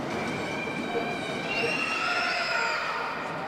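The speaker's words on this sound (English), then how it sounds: "A little crowd noise there from Granite" Crowd noise from spectators in a gym during free throws at a Southwest basketball tournament game, a steady, moderately loud din of voices and shouts filling the whole stretch, with whistle-like tones rising partway through.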